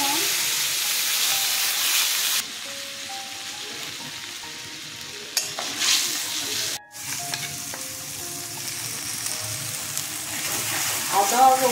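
Garlic, ginger and onion dropped into hot oil tempered with cumin seeds and dried red chillies, sizzling steadily and loudly throughout, with stirring clatter and scrapes layered over the frying hiss.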